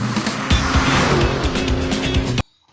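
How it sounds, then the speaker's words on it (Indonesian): A car driven fast like a race car, with a loud, steady engine roar and squealing tires running nearly continuously before cutting off abruptly. "Dan dengan gerak cepat, Shin Hari mengendari mobil itu bagai seorang pembalap."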